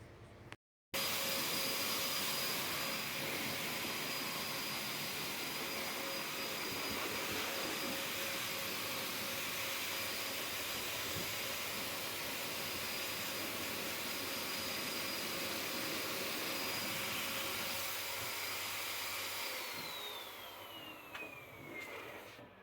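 A pet hair blower drying a dog after its bath runs as a loud, steady whooshing roar with a thin whine, close and unbroken for most of the time before cutting off near the end.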